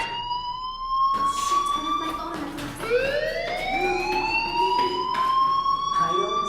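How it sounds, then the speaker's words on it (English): A fire alarm in the video game Life is Strange wails as a rising, whooping siren tone that repeats several times, loud and steady, with a voice talking over parts of it. "do you hear that fire alarm?"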